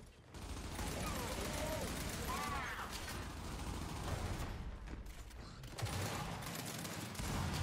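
Gunfire in the video game Gears 5 rattles in rapid bursts and fusillades through the whole stretch, moderately loud and dense, mixed with mechanical clatter and a voice talking over it.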